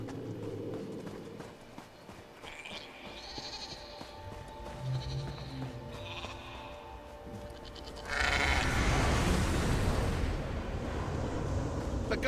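Several ghostly goats bleat in short, wavering cries in a video game, over a low background drone, followed by a louder rushing burst of noise.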